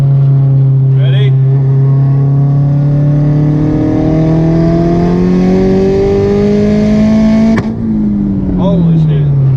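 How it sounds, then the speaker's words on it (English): A big-turbo Volkswagen Jetta pulls hard in second or third gear from 60, heard from inside with the windows up. The engine note climbs loudly and steadily for about seven seconds, then drops sharply at a shift and keeps pulling. "I'm going to do a little second or third gear pull from 60."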